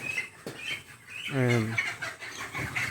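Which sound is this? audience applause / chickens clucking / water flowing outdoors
chickens clucking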